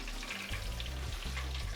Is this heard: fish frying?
yes